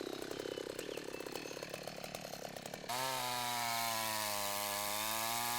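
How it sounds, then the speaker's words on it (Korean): A chainsaw runs loud and steady, rasping through a tree being felled in an Indonesian jungle, then shifts to a higher, smoother whine as the engine revs up near the end. "톱질 역시 나무가 넘어갈 방향을 고려해 신중하게 진행합니다."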